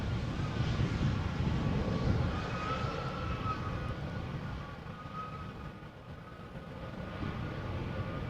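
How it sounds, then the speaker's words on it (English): A steady low roar from an Embraer 190 airliner touching down nearby at Amsterdam Schiphol fades slowly, with no voices. "that was the tail of the Embraer 190 that just touched down right in front of us"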